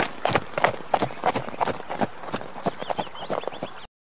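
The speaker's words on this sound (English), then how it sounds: "Stephen got onto his horse and he rode away." A ridden horse's hooves clip-clop in a steady, quick rhythm as it leaves, fairly close and clear, before the sound cuts off abruptly.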